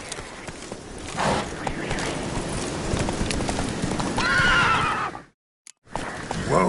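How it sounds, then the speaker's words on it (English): Horse hooves clip-clop along in The Witcher 3, joined by a neigh and snorting. The sounds are close and fairly loud, then stop abruptly in a brief silence before resuming. "Whoa there, Roach."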